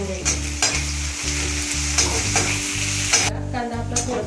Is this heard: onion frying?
yes